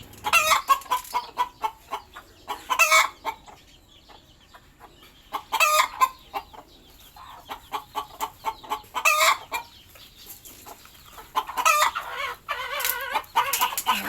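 A native free-range hen clucks and calls repeatedly in short bursts, fairly close, with quiet pauses between the calls and no talking.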